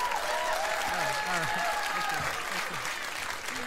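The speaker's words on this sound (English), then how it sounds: "This is so unusual to hear so much applause." Comedy club audience applauding a comedian's set, a dense steady clatter of clapping with a faint voice speaking faintly over it, easing slightly toward the end.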